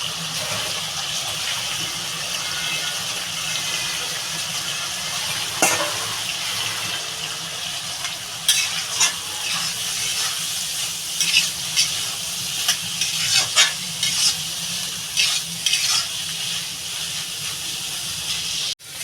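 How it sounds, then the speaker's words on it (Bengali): Prawns and grated coconut frying together in a pan, a steady close sizzle with a scrape and clink of stirring now and then, and no voices. "মাছটা একটু ভাজা ভাজা হলে তারপরে নারকেলটা দিয়ে দেবো একসঙ্গে নারকেলটাও"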